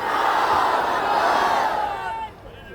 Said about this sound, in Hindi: आइए फिर एक मर्तबा जोरदार नारा लगाते गए। नारे तकबीर।